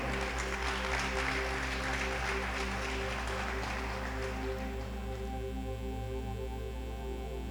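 Steady applause from a church congregation fills the whole stretch, a dense continuous clatter of clapping with a low hum underneath.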